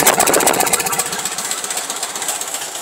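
An old engine idles just after a cold start, a loud, steady rapid knocking chug close by with no talking.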